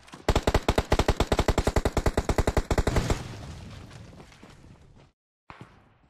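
A rapid automatic weapon fires a long sustained burst of evenly spaced loud shots in a battle royale video game, then fades into a rumbling tail and silence before a short final sound.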